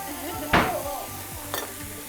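Yakisoba stir-fried on a griddle: a soft sizzle beneath two quick metallic scrapes of a spatula, close, with faint background murmur.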